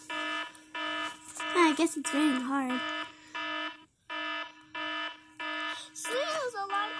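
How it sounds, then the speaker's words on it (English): A harmonic alarm clock beeps in a repeating pattern of about a dozen evenly spaced, sustained bursts, close and loud, while someone talks over several of them. "Snooze, alarm clock, snooze."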